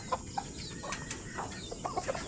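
Gamecocks at a small backyard coop cluck softly and intermittently during feeding, several short calls scattered over a steady low background hum.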